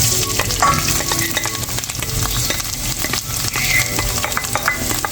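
Cactus pieces and minced keema frying in a pan: loud, steady close sizzling with constant stirring and spatula clatter, no talk.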